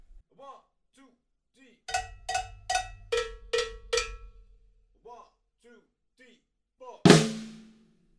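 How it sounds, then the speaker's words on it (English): A drummer plays the classic cowbell part from a song, five sharp evenly spaced cowbell hits over low rumble, with quieter tom or stick taps before and after and a loud crash near the end. "we have that classic cowbell part"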